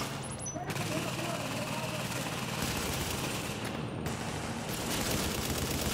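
Sustained gunfire rattles through a firefight in Tom Clancy's The Division, dense bursts overlapping almost continuously across the clip with a brief lull near the end, while a voice talks underneath.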